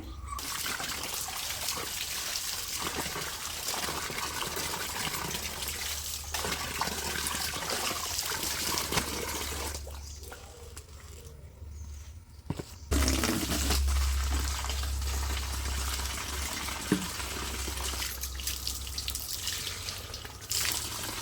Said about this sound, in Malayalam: പിന്നെ ഇതാ തുണി അലക്കലാണേ